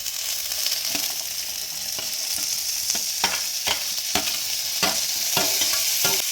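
Chopped vegetables stir-frying over a high flame for egg noodles: a constant hiss of frying with repeated clanking scrapes of a spatula against the pan, close and with no voices.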